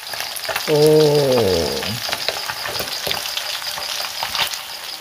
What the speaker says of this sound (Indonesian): jadi yang kita goreng ini ikannya